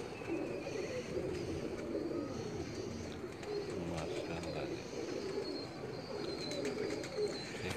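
Black pigeons coo on a rooftop in Gujrat, giving soft, low, overlapping throaty coos that run continuously at close range over a steady outdoor background.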